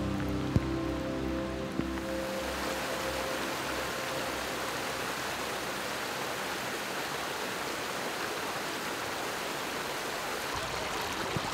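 Afternoon rain pouring steadily onto a mountain rock plateau, a dense, even hiss of drops that stays loud and constant, with no voices.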